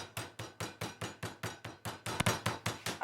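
Tula gingerbread dough being pounded in a kitchen, twelve steady, evenly spaced dull thuds, loud and close, with no talk over them.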